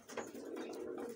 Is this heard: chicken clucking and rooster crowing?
no